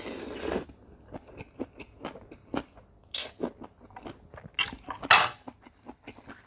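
Someone eats papaya salad with fresh blanched blood cockles, making close crunching bites and soft chewing in irregular bursts, with light clinks of a utensil.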